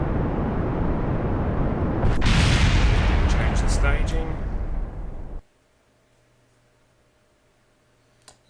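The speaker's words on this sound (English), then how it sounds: "exploding concrete is quite quite an interesting concept" Concrete blowing apart in Kerbal Space Program, a long, loud, rumbling blast-like roar that runs for several seconds before cutting off abruptly into near silence, with a faint thump near the end.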